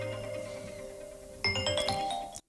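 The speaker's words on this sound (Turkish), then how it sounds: "Bakın burada yansıma diye bir zil tonu var." An iPhone ringtone on iOS 26 plays a steady tone, then breaks into a bright chiming melody of quick notes before cutting off abruptly.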